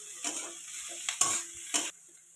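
Flattened rice seasoned with black pepper fries in a pan for chire pulao. Three or four short scraping stir strokes rise over a quiet background sizzle, then everything drops away near the end.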